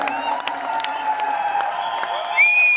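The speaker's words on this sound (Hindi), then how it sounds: "जोरदार तालियां" Applause and cheering from a crowd at a business gathering, clapping mixed with whoops and raised voices over a steady hum of the room, moderately loud and continuous.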